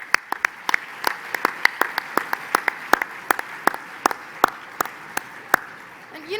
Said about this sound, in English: Let's give all the winners another round of applause.